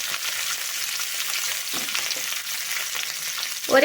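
Onion and capsicum sauté in a hot pan with a dense, steady sizzle at close range, with soft stirring movements and a sharper clatter at the very end.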